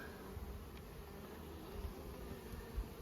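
Honey bees buzzing steadily as a few hundred are shaken into a tub for an alcohol wash from a drone-laying queen hive, a soft continuous hum with faint knocks.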